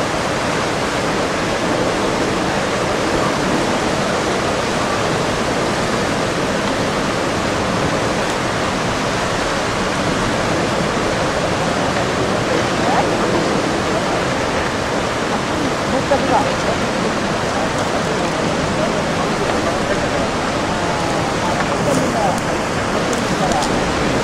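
Tsunami second wave rushing in, a dense, steady roar of churning water that stays loud and broad for the whole stretch with no break.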